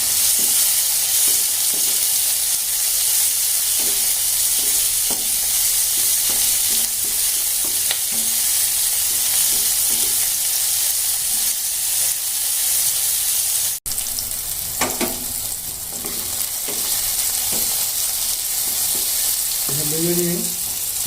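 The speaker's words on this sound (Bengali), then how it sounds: "হালকা করে ভেজে নেব। যে ক্যাপসিকামগুলো দিয়ে দিলাম, লঙ্কা কুচিগুলো দিয়ে দিলাম।" Capsicum and chopped green chilli frying in a pan for vegetarian pasta, a continuous close sizzle broken by repeated spatula scrapes and stirring knocks, with a sharper clatter late on and no talking.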